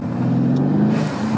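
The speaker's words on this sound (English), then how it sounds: "So let us know what you think about our new blow off valves." A 2019 AMG C63S fitted with VRP blow off valves drives slowly, its engine holding a steady low rumble with a brief airy hiss partway through, close and fairly loud.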